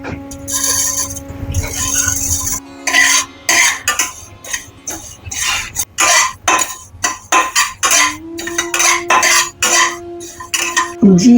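Spices dry-roasting in a pan for a homemade sherbet, heard as repeated clinks and scrapes of a utensil stirring against the pan, interleaved with someone talking.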